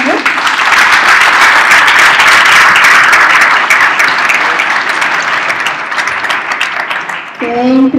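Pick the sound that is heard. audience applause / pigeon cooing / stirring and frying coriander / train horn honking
audience applause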